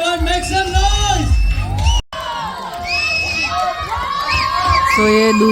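A crowd at a dance show cheers, whoops and shouts loudly and continuously, with a short drop-out partway through before the noise resumes.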